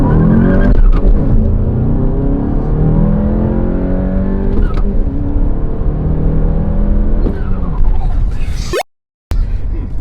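A manual Volkswagen Golf GTI Mk7 engine strains and lugs at low revs, nearly stalling as the driver can't find first gear, with gear changes and a brief cut near the end; a voice mutters faintly underneath.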